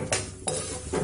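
Coconut roasts in a pan over medium heat while being stirred. Three quick scraping strokes come close together over a faint sizzle.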